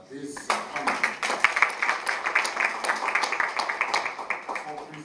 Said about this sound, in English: let's give another round of applause to this panel